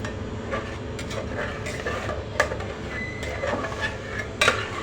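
Metal spoon scraping and clinking in a pan while a fasting dish is stirred with sugar and salt, soft steady scraping with a few sharper clinks against the metal, no voices.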